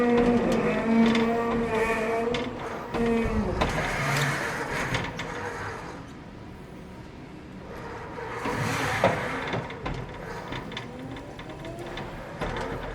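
A Toyota 8BRU23 3,000 lb electric forklift drives slowly in reverse, giving a whirring motor hum with a repeating tonal beep near the start, fading and swelling again over several seconds; no one talks.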